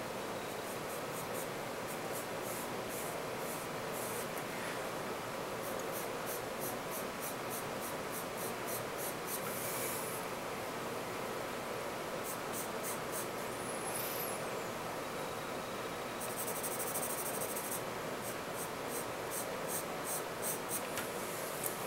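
A graphite pencil, including soft B grades, shades dark areas of a grape drawing on paper with steady, continuous scratchy rubbing throughout, close and alone.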